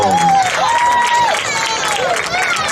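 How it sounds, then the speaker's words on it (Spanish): Crowd applause and cheering fill an outdoor beach handball trophy ceremony in Moaña, a steady, loud wash of clapping with whistle-like calls and voices throughout. "Un fuerte aplauso."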